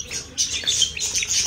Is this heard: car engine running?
no